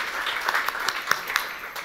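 An audience claps at a Gilda's Club 10th anniversary gala: a steady wash of many hands with a few sharper individual claps standing out, moderately loud throughout.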